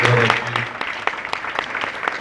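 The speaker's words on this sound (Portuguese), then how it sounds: "pedir uma salva de palmas por esse belíssimo trabalho que vocês fizeram" A small audience applauds at a library reopening ceremony, close crisp hand claps in an uneven patter that starts under a voice and then carries on alone.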